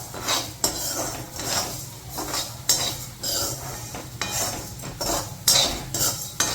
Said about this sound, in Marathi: धन्याचा रंग चेंज होईपर्यंत धने चांगले भाजून घ्यायचे आपल्याला